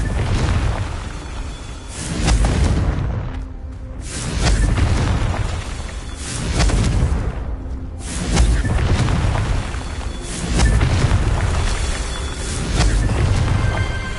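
Confringo fire spell explosions in the video game Hogwarts Legacy, a series of heavy, loud booming blasts swelling and fading in waves roughly every two seconds over dense rumbling noise.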